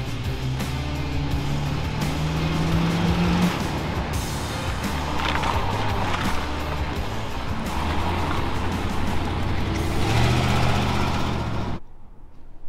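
An old Ford tow truck is pushed along by another vehicle, with a continuous engine rumble and road noise throughout that briefly swells toward the end before cutting off.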